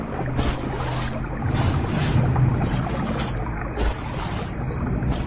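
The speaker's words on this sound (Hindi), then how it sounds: "विराट वापस से नदी पार करने लग जाता है।" A boat crossing a river at night, with a steady rush of water and wind-like noise and low rumbling, continuous and moderately loud with no speech.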